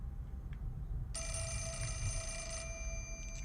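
A telephone rings in the survival horror game Fatal Frame IV: Mask of the Lunar Eclipse, one steady electronic trill that starts after a second of low room hum and runs for about a second and a half.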